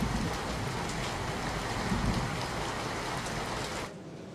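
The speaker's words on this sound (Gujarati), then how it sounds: "છોટાઉદેપુર નગર સહિત જિલ્લાની અંદર અવિરત વરસાદ ગઈકાલ સાંજનો પડી રહ્યો છે" Heavy, unbroken rain pours down across Chhota Udepur town, a dense, loud hiss that holds steady and alone for about four seconds before easing slightly at the very end.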